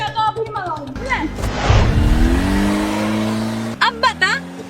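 Comic skit scene where a car engine revs and roars at length, rising in pitch, with voices talking over it at the start and end.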